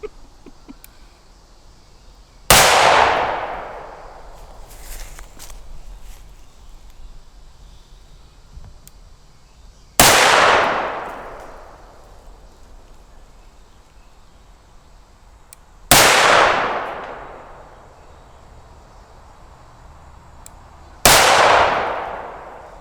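A Desert Eagle pistol fires at a Work Tuff Gear Woodscraft Tanto knife: four loud, sharp shots spaced several seconds apart, each ringing out and decaying over a quiet background.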